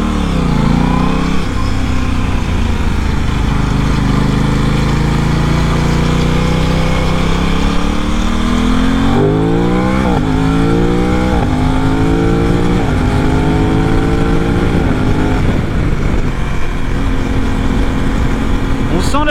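Aprilia RS 660 motorcycle engine held high in the revs, a loud continuous drone with rising and falling pitch sweeps as the throttle changes, close up and steady throughout with no talking over it.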